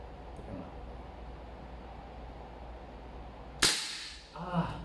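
Redmantoys BCM MCMR MK2 airsoft gas blowback gun firing, a single sharp loud crack with a short metallic rattle after steady background hiss, alone without talk.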